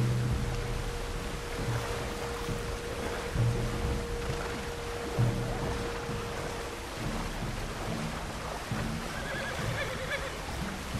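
A river crossing in Red Dead Redemption 2, where the current runs strong through a shallower stretch. Water rushes steadily the whole way through, with rain, low rumbles and occasional horse snorts layered over it.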